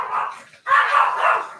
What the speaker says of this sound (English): and Charlie is the brown dog.